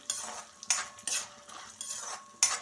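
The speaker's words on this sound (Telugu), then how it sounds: "పోపు సామాన్ వేసుకుని ఒకసారి కలిపేసుకోవాలి" Five or six quick bursts of metal scraping and clinking as tempering spices are stirred in a pan with peanuts for aloo palli curry, spaced about half a second apart, close and fairly loud.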